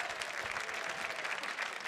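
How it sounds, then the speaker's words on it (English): A crowd at a fundraising event applauds its $250 donors, a dense, steady wash of clapping from many hands holding level throughout without any voices. "How about a big round of applause for our"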